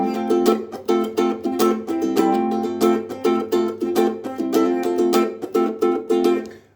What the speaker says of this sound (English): funky strumming pattern, a nice rhythm for ukulele,